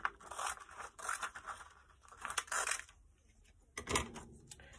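Paper card background being trimmed for an acetate ship-at-sea card, a few quiet scraping snips and rustles in short bursts close by, with a sharper cut near the end.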